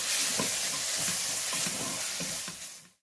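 A biryani masala mixture with egg is stirred in a pressure cooker, giving a bright, steady sizzle with soft rhythmic scrapes of the spoon that fade out at the end.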